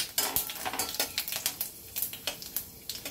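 Panch phoron and fennel seeds sizzle and crackle in hot oil, close and bright, with quick popping bursts and light clinks from a pan or utensil, no talk.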